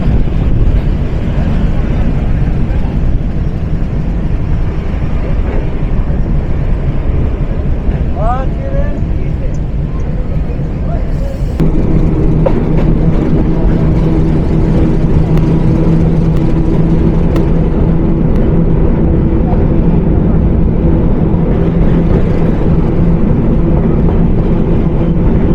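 The Mohua Commuter locomotive runs on the Dhaka to Mohanganj line, heard from inside the cab: a loud, constant engine roar and rumble with wind buffeting, and a shift to a heavier, tonal drone partway through.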